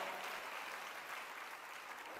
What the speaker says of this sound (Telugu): గట్టిగా చప్పట్లు కొట్టి దేవుని మహిమపరిచి